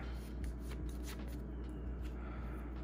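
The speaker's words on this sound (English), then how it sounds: "let's go ahead and shuffle up and go into the next hand." Yu-Gi-Oh! cards being shuffled by hand, a quiet run of soft rapid riffling and papery flicks, close and steady, with no talking.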